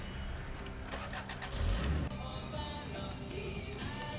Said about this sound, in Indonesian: Geng Yahudi itu nyuruh Hank yang nyetir mobil.